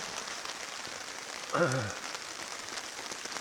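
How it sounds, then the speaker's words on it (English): Rain falling outdoors at a campsite in the Boundary Waters wilderness, a steady hiss of drops on surfaces with a brief murmured voice partway through. "Been pouring down all night and all day."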